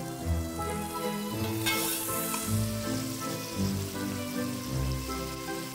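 A chopped tomato with its skin on frying in a pan, a loud, close, crackling sizzle that flares sharply about two seconds in, with no speech.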